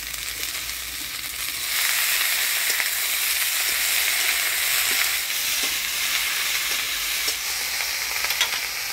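Onion with black cumin frying in hot oil, with vegetables going in: a continuous close sizzle with scattered stirring taps and scrapes, with no talking.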